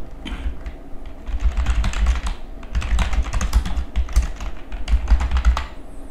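Email address typed on a computer keyboard during a Windows software install, with steady rapid key clicks in uneven bursts, close and clear, and no talking.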